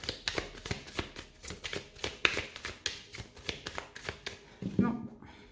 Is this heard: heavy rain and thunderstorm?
no